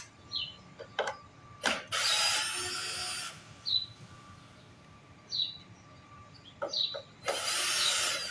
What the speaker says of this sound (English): What am I doing? I got power tools.